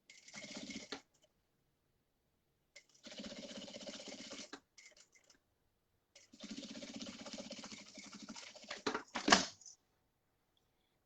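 A sewing machine stitches a seam along the edge of aligned fabric pieces for a makeup pouch, running in three steady whirring bursts separated by pauses, close and fairly quiet, ending with a brief louder clatter.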